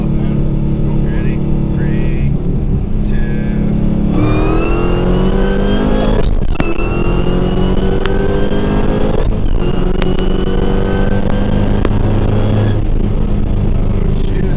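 A 900+ whp Dodge Hellcat accelerates hard on a highway in Mexico, its engine note climbing loudly through several gear changes as it roars close by, with people talking and exclaiming inside the car.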